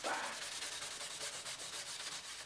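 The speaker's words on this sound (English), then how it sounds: "This is 4/0 steel wool. It's the finer stuff." Fine 4/0 steel wool rubbing across a shellac finish on a guitar, a steady, close, loud scrubbing hiss with rhythmic back-and-forth strokes and no speech.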